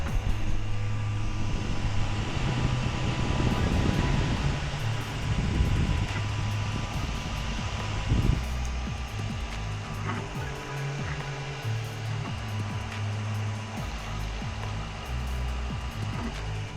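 A 3D printer running its first print, extruder at 180 degrees and bed at 58, gives a steady whirring hum with shifting motor tones and faint mechanical ticking throughout, with no voices.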